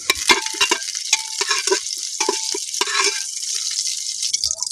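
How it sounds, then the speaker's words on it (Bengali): Dry red chillies, bay leaf, whole garam masala and cumin sizzle as they hit hot oil, crackling and spitting steadily with sharp pops and stirring clatter, close and loud with no voices. "প্রেসার কুকার বসিয়ে দিয়েছি, দিয়ে দেবো শুকনো লঙ্কা, তেজপাতা, গোটা গরম মশলা আর জিরে ফোড়নে দিয়ে দেবো।"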